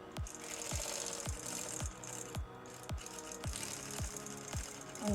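A sewing machine stitches down a saree jacket strap with a steady, even rhythm of about two needle strokes per second, close and alone.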